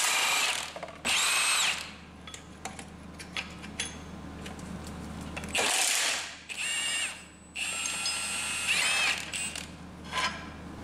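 Power tool removing PPF bolts on a Miata, several loud bursts of ratcheting mechanical whirring separated by pauses, close up, with no talking.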